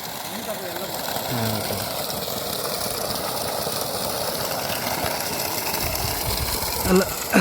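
A 3hp Texmo solar-powered water pump motor hums steadily with a mechanical whirring drone under rushing water, continuous throughout, with a brief voice near the end.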